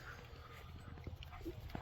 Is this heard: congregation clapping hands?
no